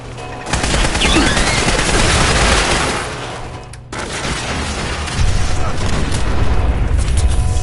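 Loud, close weapons fire in the video game Fallout 4, a dense sustained barrage of bursts and booms with a brief break before it resumes, while a voice speaks over it.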